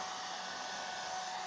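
A hair dryer blows hot air to kill bed bugs in a Sheraton hotel room in Philadelphia, a steady unbroken whooshing hum heard up close and alone.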